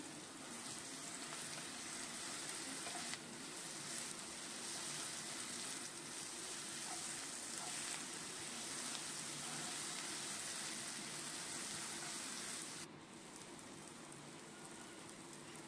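Ground spice paste, the same used to marinate chicken for a spicy Bengali kosha curry, fries in a pan with a steady, dense, rain-like sizzle that runs throughout and eases slightly near the end.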